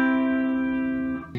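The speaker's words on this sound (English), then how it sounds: "when you put them together, you get a major triad" A sustained synthesized major triad chord rings evenly and alone for over a second, rich in overtones, then fades with a brief new attack at the end.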